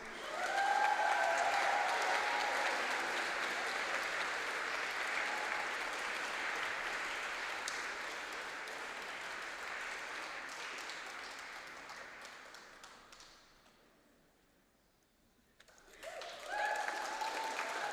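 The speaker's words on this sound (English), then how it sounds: "Excellent whoops and cheering, by the way." Loud audience applause with whoops and cheers at a literary awards ceremony, a sustained wash of clapping lasting over ten seconds before dying away, then resuming briefly as a voice starts.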